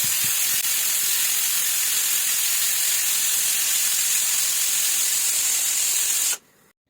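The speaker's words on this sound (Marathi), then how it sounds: "आपल्याला कुकरच्या तीन शिट्ट्या करून घ्यायच्या" A kitchen pressure cooker, used while making pav bhaji, lets out a loud, sustained whistling hiss of escaping steam for about six seconds before it cuts off abruptly.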